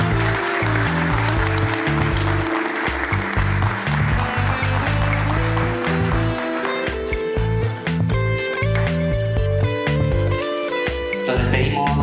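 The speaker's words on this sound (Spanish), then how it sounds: "Los despedimos con fuertes aplausos a Miguel Garnet y a Consuelo Lescano." Audience applause at a conference honouring Padre Miguel Garnett and Cajamarca writers, a broad steady patter largely buried under loud, beat-driven music that continues for the whole stretch.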